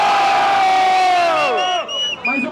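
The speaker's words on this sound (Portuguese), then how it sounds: "Barulho pra quem gostou das rimas do Krauk." Audience at a Brazilian freestyle rap battle erupts in loud cheering and battle-cry shouting for a vote, with piercing whoops layered on top, then falls away into a few separate shouts at the end.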